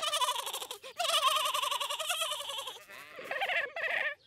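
A cartoon sheep bleats in a long, quavering, wavering cry, then a few shorter bleats follow near the end, loud and close with no talking.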